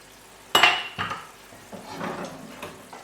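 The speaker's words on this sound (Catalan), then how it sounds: "Els camagrocs els passarem una mica per la paella." Camagroc mushrooms tipped into a pan with a little oil, starting with a loud clatter and burst of sizzle, then scraping and stirring noises that settle into a steady frying hiss.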